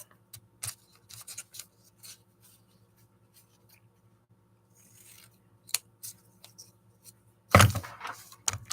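Scissors snipping through paper scraps to cut them in half at a craft table. A series of crisp, close cuts with quiet pauses between them, ending in a louder burst of rustling snips.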